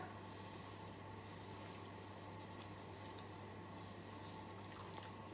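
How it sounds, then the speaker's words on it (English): Running water from a salon backwash sink rinses colour from highlighted hair, a steady, even hiss that continues without a break, quiet and somewhat distant, with no talking. "And use your hand to cup the water to avoid splashing your client's face."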